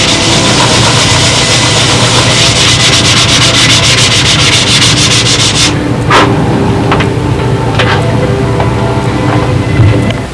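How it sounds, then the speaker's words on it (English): A model is sanded with 320 grit sandpaper, producing loud, continuous rapid rubbing strokes that stop about halfway, leaving a low background hum and a few faint taps. "Sanding the whole thing down with 320."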